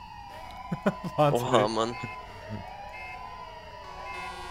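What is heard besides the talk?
siren in Arma 3 video game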